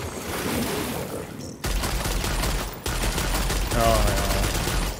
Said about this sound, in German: Schießen.